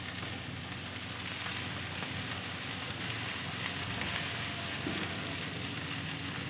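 Small cabbage pieces dropped into hot fried spices in a pan set up a steady, close, loud sizzle that holds without break and never dies down, with no talking over it.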